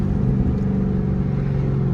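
A Corvette speeding up from behind in city traffic gives a steady, fairly loud engine drone with a low rumbling hum that holds even throughout, with no voices.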